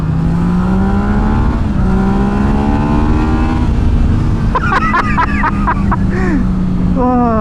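Yamaha MT-09 motorcycle accelerating hard, a loud engine climbing in pitch through successive gears, then sharp throttle blips and rev bursts near the end, with a voice briefly over it.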